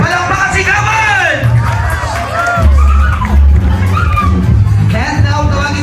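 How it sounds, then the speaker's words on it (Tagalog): A crowd at a family birthday party shouts and whoops over loud thumping background music, with lively voices and cheering in a steady din throughout. "Palakpakan sigawan!"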